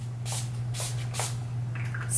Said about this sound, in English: I'm gonna just go ahead and set my entire face with this Skindinavia, the makeup finishing spray